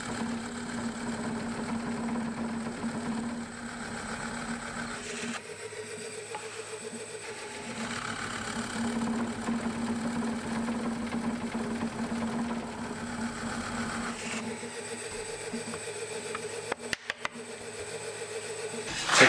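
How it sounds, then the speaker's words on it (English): A pillar drill with a worn, overdue Forstner bit bores into antique pine shutter timber, a steady mid-pitched motor hum with cutting noise running throughout, loud and close, with brief rattling clicks near the end. "I've just set the pillar drill so that it doesn't go through the piece of wood."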